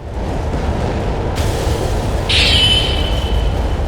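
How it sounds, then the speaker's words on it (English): Explosions in the mech game Armored Core 6 roar as a dense, continuous low rumble, with a sharp bright blast breaking in partway and a ringing metallic whine trailing over the heavy background. "Never look at your explosions."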